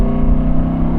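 A sports car engine drones loudly and steadily while driving at modest speed with the roof down, a close, sustained rumble without any talking.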